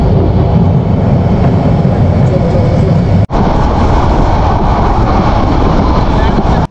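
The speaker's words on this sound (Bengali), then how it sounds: "ট্রেনটি ইসলামাবাদ রেল স্টেশনের কাছ দিয়ে ছুটে চলেছে।" The Cox's Bazar Express rushes past near Islamabad railway station in a loud, continuous roar of wheels and wind, broken by a brief sharp dropout midway.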